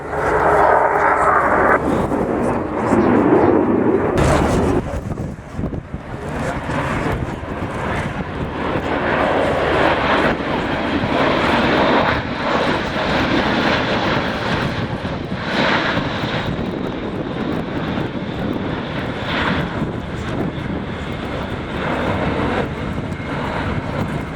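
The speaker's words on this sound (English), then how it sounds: "a beautiful slow roll there, using all three axes of the flying control system to keep that aircraft level." Airbus A400M military transport aircraft flying a slow roll at an air show display, its turboprop engines roaring loud and steady throughout, broadband and sustained with a brief dip early on.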